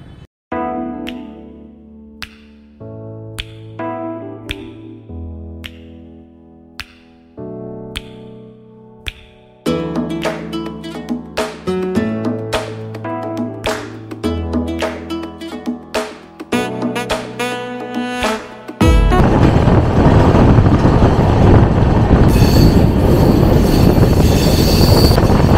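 A passenger train rolls on just after pulling out of Pakur Junction. Loud, steady rumbling wheel noise surges in over the final few seconds, following a long stretch of tonal music.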